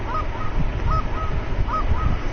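A flock of geese honking as they come in to land at decoys in the hunting video game theHunter: Call of the Wild, repeated nasal calls over a steady rushing background.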